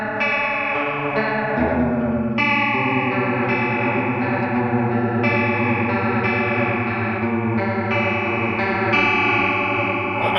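Guitar runs through a Boss PS-3 pitch shifter delay with the feedback knob turned all the way up, giving a loud, dense, distorted wash of repeating, layered notes that shift in pitch and sustain continuously.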